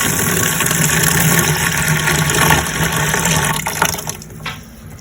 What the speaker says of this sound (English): Microgreens in the sink. Add a little cold water.